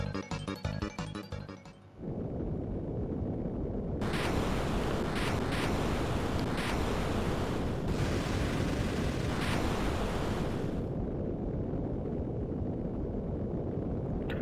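A long, loud explosion rumbles in the Final Fantasy V video game, a continuous roaring noise wash with repeated sharper bursts layered over it after a brief musical opening.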